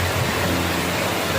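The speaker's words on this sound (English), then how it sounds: "First rainfall" Steady rain hisses down during a first rainstorm in the Philippines, a dense, even wash of noise with no other sounds.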